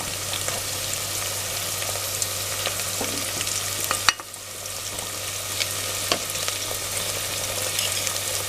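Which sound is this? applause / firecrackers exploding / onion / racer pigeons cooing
onion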